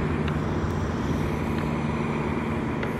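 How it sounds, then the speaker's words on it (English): A loud truck rumbles steadily along a roadside, its low, continuous engine drone filling the scene at moderate distance without pause for the full few seconds. "that truck over there is really loud"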